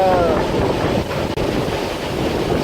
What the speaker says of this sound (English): it's really windy in here because they got the fans going full blast to keep it cool in here.